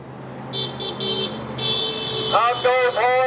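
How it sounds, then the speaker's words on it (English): Car horns honk at a street march counting every vote, with several toots and a longer blast at close range, followed by a rising, warbling alarm-like tone over crowd noise. "Honk those horns, honk those horns, honk those horns."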